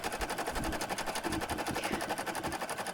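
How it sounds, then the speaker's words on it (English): Embroidery machine tacking a name tag down onto felt in a hoop, a steady rapid mechanical chatter of stitching, close and continuous without pause. "Load the hoop back into your machine, and it will tack down the name tag in place."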